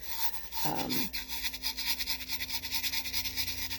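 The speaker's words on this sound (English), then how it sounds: "You just keep rubbing." Glitter is rubbed by hand onto a tumbler in a steady, close, rhythmic scratchy rasp of repeated strokes, with a faint tone running underneath; no one talks.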